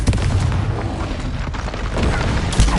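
Confringo blasting spells explode in the video game Hogwarts Legacy. Loud, deep booms and bursts follow one another in quick succession, with rumbling impacts throughout.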